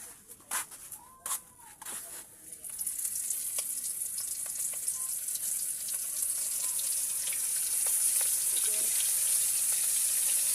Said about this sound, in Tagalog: Ito naman ipiprito ko na itong calamares.